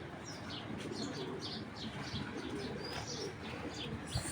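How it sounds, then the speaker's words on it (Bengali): Racing pigeons, including foreign club breeds, coo softly at a farm loft, with scattered chirps and a brief wing flutter over steady background noise. No voices. "আপনার একটা কবুতর, বিদেশি কবুতর দেখলে আপনারাও বুঝবেন ভাই।"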